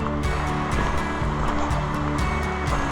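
Justus Creek on the Appalachian Trail in Georgia, a constant rushing wash of flowing creek water, steady and fairly close, heard alone.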